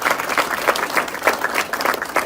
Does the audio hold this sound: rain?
no